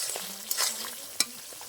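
Spice paste frying in oil for a vegetarian brinjal dish, with a soft, steady sizzle and two sharp spatula scrapes against the pan, close and low in level.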